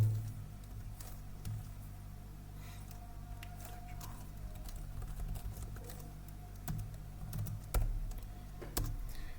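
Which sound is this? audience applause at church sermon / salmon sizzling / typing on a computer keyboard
typing on a computer keyboard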